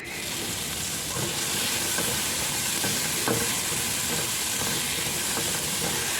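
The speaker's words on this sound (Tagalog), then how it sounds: "Sunod natin yung ating onion. Ayan. Gisa lang natin." Onion sautés in a hot pan for ginisang ampalaya, giving a dense, continuous sizzle and hiss with occasional stirring, close and fairly loud.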